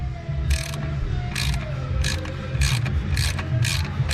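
A 13mm ratchet clicks in repeated bursts as it loosens the bolt on the outer engine belt pulley of a Ford Ranger, with a steady low engine hum underneath.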